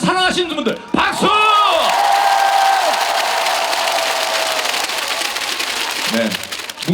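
A crowd at the Mungyeong apple festival breaks into applause and cheering after a voice on the PA calls out, a loud, sustained roar of clapping and shouts that carries on for several seconds.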